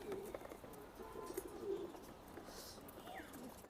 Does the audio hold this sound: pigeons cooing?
yes